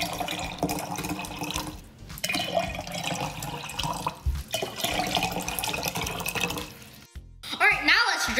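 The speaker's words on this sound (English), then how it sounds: "Now let's put some water." Water poured into a glass that already holds oil for a kitchen science experiment, splashing and trickling for several seconds with brief breaks and a sharper clink near the end.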